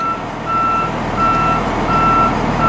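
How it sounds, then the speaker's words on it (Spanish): Reversing alarm on a truck with an Allison AT 545 transmission, sharp evenly spaced beeps repeating about once a second over a low idling engine rumble, loud and close. "Y reversa no jala, nomás se escucha el sonido de la alarma."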